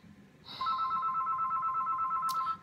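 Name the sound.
telephone ringing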